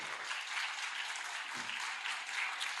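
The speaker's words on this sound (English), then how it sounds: "have a round of applause for our great board of directors" An audience at a community meeting applauds the board of directors, a dense, steady round of clapping from many hands that lasts the whole time.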